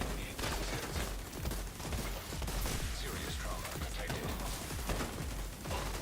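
An enemy turret in The Division 2 hammers the players with sustained rapid gunfire, dense and continuous throughout at a moderate, slightly distant level, with no talk over it.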